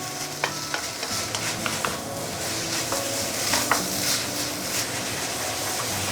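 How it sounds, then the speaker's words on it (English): Rice noodles (bee hoon) being stirred and tossed in a hot pan, with a steady sizzle and occasional scraping clicks of a utensil against the metal. "stir fry your bee hoon"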